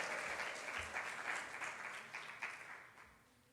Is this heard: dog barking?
no